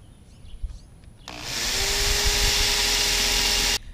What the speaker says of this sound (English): Now time to drill again.